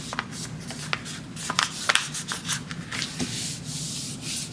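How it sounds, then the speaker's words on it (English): Paper is folded in half for a handmade junk journal, close, dry rustling and rubbing with a few sharper creases and crinkles in an uneven rhythm. "And then fold it in half, like so."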